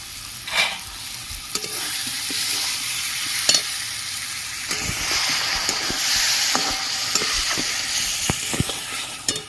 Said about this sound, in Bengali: মশলা থেকে তেল ছেড়ে দিয়েছে ভেজে রাখা আলু দিয়ে দিচ্ছি